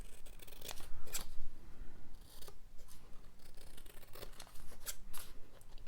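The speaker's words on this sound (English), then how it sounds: "let's get rid of those and trim it down a little bit" Scissors snip repeatedly through a paper label while filling a flower-themed junk journal, making close, crisp cuts in short bursts with brief pauses between them.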